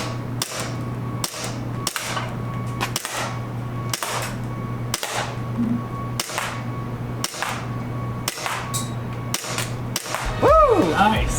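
A handgun fired twelve times in quick succession during a timed shooting drill, sharp loud cracks spaced roughly a second apart over a steady background hum, with a brief voice near the end.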